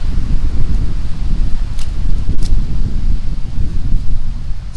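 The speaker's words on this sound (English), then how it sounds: "it's a bit windy." Gusty wind blows through trees at a wilderness campsite, a loud, rough rush with leaf rustle and buffeting against the microphone, plus a couple of brief faint ticks.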